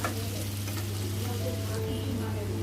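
Cumin powder and Kashmiri red chili are stirred into banana flower frying in a pan, giving a steady close sizzle with a constant low hum and scraping stir sounds throughout.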